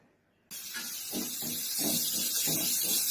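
Chopped onion drops into hot coconut oil in a pan, setting off a sudden loud sizzle that settles into a steady, bright hiss with faint crackles and no talk.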